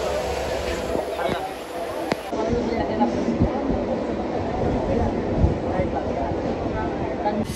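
A long-distance passenger train travels toward Coimbatore, Tamil Nadu, filling the whole clip with a steady, loud rolling rumble and rattle, with muffled voices and faint clatter in the carriage.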